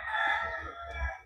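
A rooster crows in Salbid among chickens, a single loud, sustained, nasal crow filling the short moment close by, with no voices.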